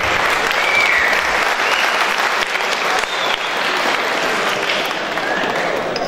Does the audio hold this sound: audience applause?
yes